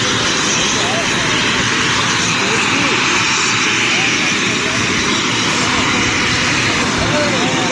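Three helicopters start up and warm their engines before a departure at an outdoor gathering, a loud, steady turbine roar with rising whine that runs continuously throughout, with people talking underneath.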